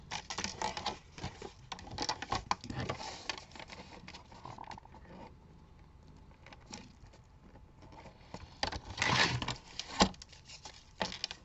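Paper is cut for a handmade envelope-style card, giving quiet, close, irregular scraping and rustling strokes that come in clusters with a softer gap midway.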